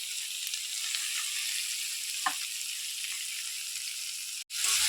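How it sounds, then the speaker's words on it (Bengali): Paneer (chhana) frying in mustard oil makes a dense, even sizzle close up, with a soft stirring scrape midway and a brief cutout near the end. "প্রথমে ছানাটা ভেজে নেব সর্ষের তেল দিয়ে।"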